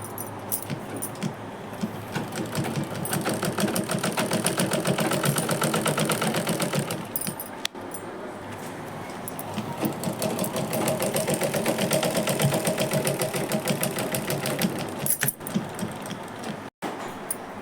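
A sewing machine stitches saree lace strips together, its needle running in a fast, steady mechanical chatter that stays close and continuous, pausing briefly about midway before resuming.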